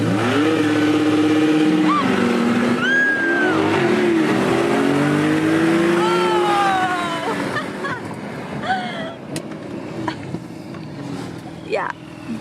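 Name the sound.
Chevrolet Corvette C8 racing Porsche 911 Carrera 4S on runway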